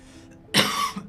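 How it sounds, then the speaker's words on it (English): A single short, harsh cough bursts out close to the microphone after a quiet moment and fades quickly. "I'm sorry for coughing."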